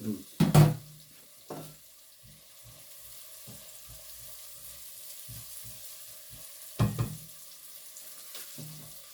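Food stews and sizzles in a pan before minced meat is added: a soft, steady frying hiss runs throughout. Occasional louder clatters and scraping knocks of a utensil against the pan break through the sizzle.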